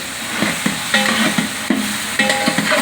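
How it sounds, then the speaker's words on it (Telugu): Ginger garlic paste fries and is stirred in a large pot for a 6 kg vegetable biryani, with steady sizzling broken by repeated scraping stir strokes. No voices are heard. "అల్లం వెల్లుల్లి పేస్ట్ వేసేద్దాం ఇది కొంచెం వేగిపోయిన తర్వాత"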